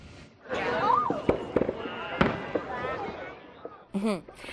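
A waterfront fireworks display in Barrie for Canada Day, with several sharp bangs and crackles standing out under a voice talking throughout.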